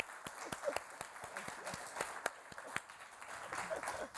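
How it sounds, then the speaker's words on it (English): Audience applause at a business event with a Franklin Templeton executive: a dense, steady wash of many hands clapping with sharp individual claps standing out, moderately close, holding for the full stretch with no talk over it. "Let's give a big round of applause"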